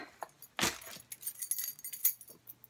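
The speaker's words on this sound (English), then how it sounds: "So, a spare set of keys." A spare set of keys jangles briefly, with one sharp metallic rattle followed by softer, scattered clinks, close by and fairly quiet, with no voices.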